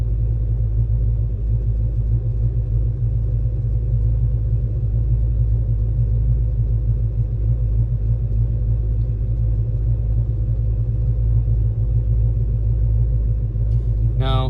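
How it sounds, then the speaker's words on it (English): A car engine idles steadily with a loud, constant low rumble throughout while the driver sets up air-fuel ratio data logging, with a brief higher-pitched sound at the very end. "I'm going to leave my car running"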